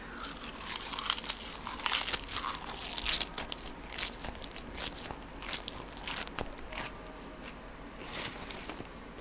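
Crisp, crunchy chewing of fresh spinach leaves that had sat in a fridge for two days, with close, continuous crackling bites and crinkles and no talking.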